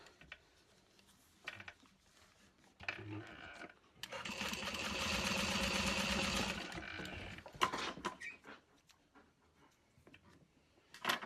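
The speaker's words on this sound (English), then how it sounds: "Top stitch along the sides." Sewing machine top stitching along the sides of an Annette handbag, a close steady whir lasting a few seconds amid scattered handling clicks and shuffles before and after.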